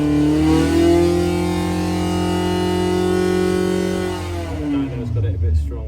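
A high-compression 1200 race motorcycle engine on a dyno holds a loud, steady high rev for several seconds, then drops in pitch as the load is released.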